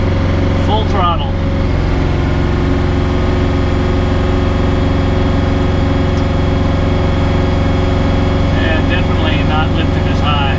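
A Bobcat tractor engine held at full throttle, a steady, loud drone with a constant hum throughout, with a voice speaking briefly near the start and again near the end.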